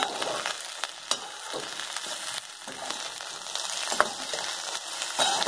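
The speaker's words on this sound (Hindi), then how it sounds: "भिंडी के साथ साथ हमारी प्याज भी फ्राई हो रही है।" Okra and onion fry with spices in a pan, making a continuous close sizzle. Occasional scrapes and taps come from stirring, and no one speaks.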